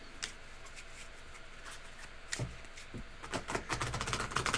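A tarot oracle card deck shuffled and cut, with soft riffling and brushing early, a few sharp card taps, then a dense burst of rapid flicking riffles near the end, close and moderately loud.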